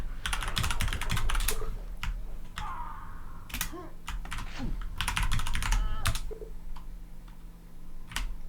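Rapid bursts of computer keyboard typing, close and fairly loud, with clustered keystrokes separated by short pauses during a Quake C session.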